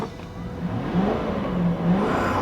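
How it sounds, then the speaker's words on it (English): Toyota Soarer V8 idling close by and given a short, modest rev with a smooth rising whir, fairly quiet and alone. "Give it a rev."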